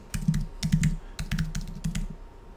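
A computer keyboard being typed on in a quick sequence of keystrokes to enter a password, clicks falling in short bursts close to the mic with no talking.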